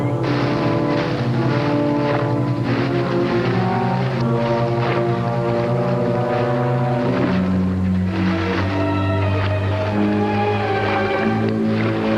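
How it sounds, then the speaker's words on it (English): A boat engine drones steadily throughout, loud and continuous, with tonal layers shifting partway through. "there's Mr. Marco's motorboat"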